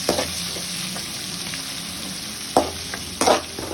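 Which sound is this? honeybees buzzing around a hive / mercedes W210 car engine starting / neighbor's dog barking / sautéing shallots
sautéing shallots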